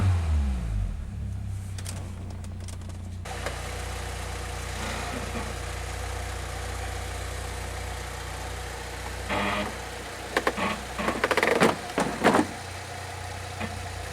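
A car engine sits on ramps, idling steadily with low harmonic hum throughout, then revved higher near the end in a few short bursts that rise above the idle drone.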